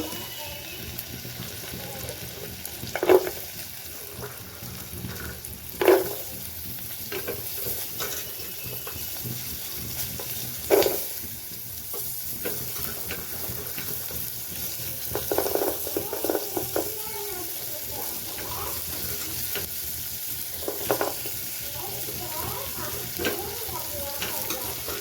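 Vegetable toppings frying in a pan for white sauce pasta, a soft continuous sizzle broken by a few louder stirring scrapes and clatters of the spatula against the pan.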